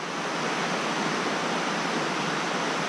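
Water rushes steadily as it drains down into a culvert, a loud, constant broadband roar like a small waterfall with no breaks.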